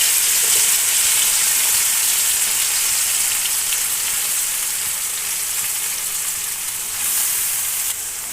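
Okra hissing and sizzling steadily in hot oil in a pan, a loud, dense, continuous fry with no voices.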